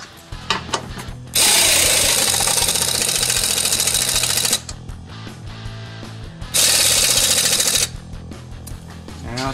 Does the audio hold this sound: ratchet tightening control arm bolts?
yes